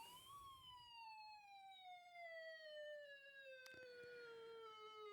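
A steady wailing electronic siren tone from a 1990s Hess toy truck sliding slowly downward, tinny and continuous, with a sharp click partway through.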